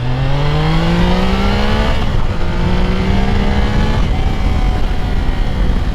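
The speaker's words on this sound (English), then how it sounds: "I'm going to give it the beans in second. Alright, second gear full." A Triumph Daytona Tiger motorcycle pulls hard at full throttle in second gear, engine pitch climbing steeply in loud sweeping rises with a brief dip between pulls, close up and alone, wrapped in wind roar.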